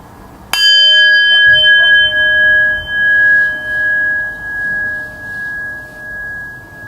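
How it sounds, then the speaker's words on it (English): A meditation bell is struck once to end a round of sitting meditation, ringing out with a clear metallic strike and a long, steady sustained tone that slowly fades with gentle pulsing over several seconds, alone in a quiet room. "in a moment I will ring the bell"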